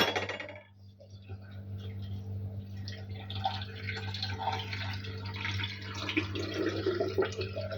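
Water poured into a jar of tomatoes being fermented for pickling, a steady light trickling and splashing that runs throughout, close by, over a low constant background hum.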